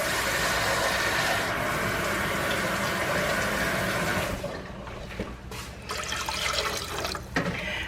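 Water pours into a jar of pickling brine made with vinegar for banana peppers, a continuous splashing, gurgling stream that thins and breaks into uneven trickles toward the end.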